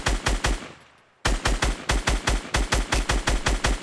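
Rapid automatic gunfire from a weapon in Fortnite rattles off in dense, evenly spaced bursts, pausing briefly for about a second before resuming a loud, relentless stream of shots.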